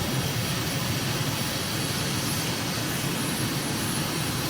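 A fast military jet in a flight simulator game roars with a steady, loud, broadband engine rush that never lets up, with no voices over it.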